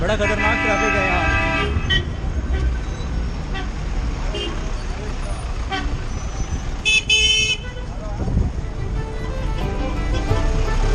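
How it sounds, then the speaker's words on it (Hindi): Dense road traffic at what seems to be a bus terminal in India, with engines rumbling and car and bus horns tooting repeatedly, several long blasts cutting through, while people talk nearby. "बड़ा खतरनाक ट्रैफिक है यहाँ।"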